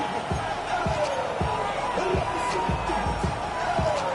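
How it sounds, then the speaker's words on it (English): A football stadium crowd at a Giants game before a third down, a steady roar of cheering spectators with repeated thumping beats underneath, continuous and fairly distant. "This crowd into it now as we get to 3rd down."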